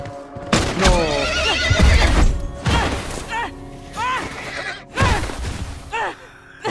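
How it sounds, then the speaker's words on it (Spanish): Horse neighing in the video game The Last of Us, several loud, shrill whinnies close up over hoof clatter and thuds, with a person speaking over them. "Disparen al maldito caballo."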